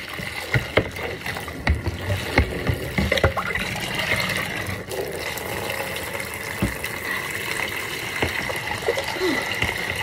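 Cotton yarn being rinsed in water gives a steady wet sloshing and trickling with soft splashes and knocks, continuous and fairly close.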